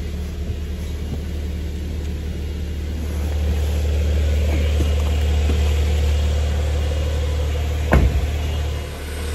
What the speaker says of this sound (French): échappement sport, échappement éteint. Il y a une vraie différence.